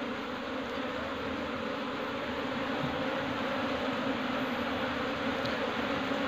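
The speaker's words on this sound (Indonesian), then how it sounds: "ini tinggal nunggu untuk lebahnya masuk semua ya" Honey bees buzz in a steady, dense outdoor drone as the colony moves into a new wooden hive box, a constant hum with no voices.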